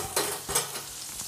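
Medium-size chopped onions fry in a hot pan while being stirred, giving a few quick scraping stirs over a soft steady sizzle, close and fairly quiet.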